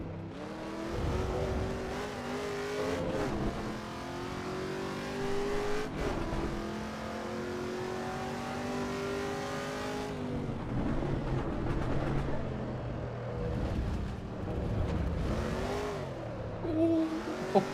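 Race car engine in the Assetto Corsa EVO racing game revving hard with strong throttle response, rising and falling pitch through gear changes, loud and continuous with brief tire squeal.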